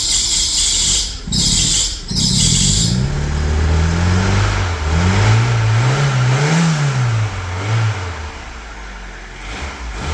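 A Fiat Seicento engine cranks over with a few starter bursts, then catches and revs up and down in rising and falling sweeps before settling toward idle, close and loud.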